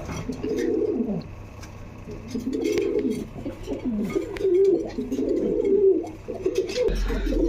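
Almond-coloured Danish pigeons coo nearby in a repeated rolling pattern, several low throaty calls in a row over faint background rustling.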